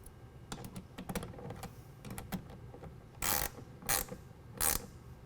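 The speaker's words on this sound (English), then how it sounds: "tighten it down with my 1/2 inch wrench or ratchet" A 1/2 inch ratchet tightens the clamp on a truck tonneau cover rail, giving a quick series of sharp metallic clicks, followed by three louder, longer rasping bursts close to the microphone.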